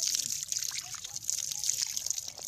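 A thin trickle of purified drinking water splashes steadily at a community water point, close and soft, with a continuous hiss and faint background noise.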